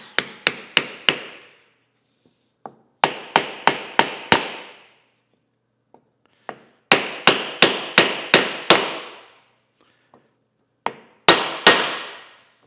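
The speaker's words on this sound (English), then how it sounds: "We'll hammer this in place." Hammer blows tapping a new spindle bearing into place on a Sellers 6G drill grinder, struck in four quick bursts of four to five sharp metallic hits each, with brief pauses and a few lighter taps between, loud and close.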